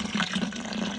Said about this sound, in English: Just going to throw some cold water in there nice and quickly to get the temperature down